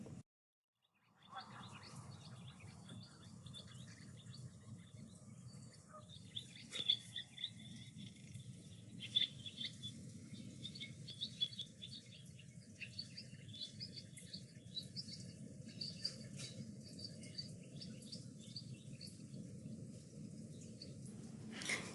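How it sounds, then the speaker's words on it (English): Bird vocalizations played as an example of bird calls, with scattered faint chirps and tweets over a steady low background hum and insect-like patter throughout, no talking. "Number 3 is bird vocalizations."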